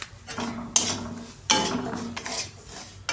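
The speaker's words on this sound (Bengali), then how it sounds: "ভালো করে এখন সুজিটা নাড়াচাড়া করে ভাজা ভাজা করে দেবো।" Semolina being stirred and fried in white oil in a metal pan for a sweet pitha, a quiet scraping punctuated by a few sharp clinks of the spoon striking the pan.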